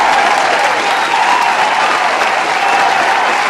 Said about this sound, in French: une bonne acclamation pour Tati Irma.